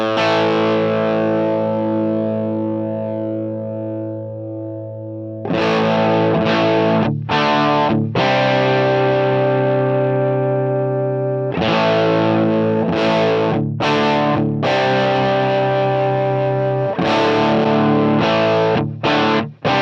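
Distorted electric guitar played through a real amp and a Helix Brit amp model, with sustained crunchy chords ringing out, then repeated choppy chord stabs and more ringing strums, loud and upfront with no talking.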